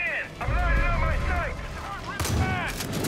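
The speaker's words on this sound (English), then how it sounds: "Hey, shotgun!" Shotgun blasts in the open-world shooter Far Cry 5 crack out among gameplay noise, with a heavy boom near the end, while voices speak and shout over the shots.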